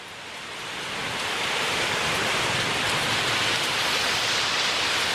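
Rain falling outdoors by a lawn at an off-grid cabin, a steady broadband hiss that swells over the first seconds and then holds loud and even with no voices.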